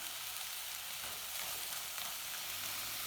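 Steady sizzling and frying of chickpea sundal with grated coconut in a pan, a constant crackle with faint scraping as it is stirred, no voices.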